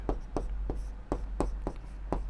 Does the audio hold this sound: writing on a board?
yes